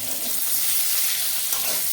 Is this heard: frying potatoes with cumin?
yes